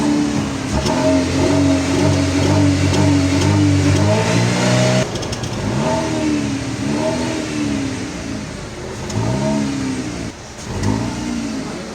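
Chevrolet Cobalt with a straight-through exhaust revving up close, loud rising and falling engine pulls with a harsh rasp, several repeated throttle blips and a short dip between them.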